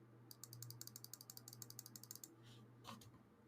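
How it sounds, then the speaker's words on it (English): Rapid computer mouse clicks in a quick, fairly even burst of about twenty sharp ticks over roughly two seconds, then a pause and a final faint click, close and clear over a steady low hum. "So here are mouse clicks."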